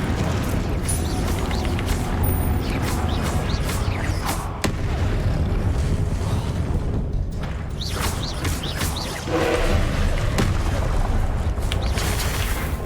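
A Confringo fire spell in Hogwarts Legacy, a loud booming blast among dense rumbling battle effects with repeated impacts and crackles throughout.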